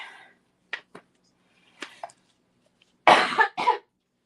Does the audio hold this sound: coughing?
yes